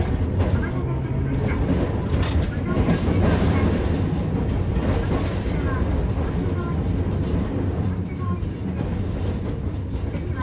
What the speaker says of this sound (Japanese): 床下から聞こえるガタンゴトンの音がたまらなくいいですね